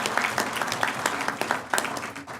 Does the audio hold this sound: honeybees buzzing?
no